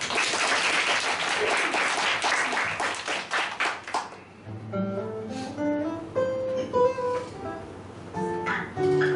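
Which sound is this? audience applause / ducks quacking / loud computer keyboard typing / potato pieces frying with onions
audience applause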